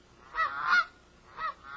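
Taverner's geese, a small short-necked Canada goose form, give two honking calls, the first a longer doubled honk and the second shorter after a pause, fairly close and clear with no talk.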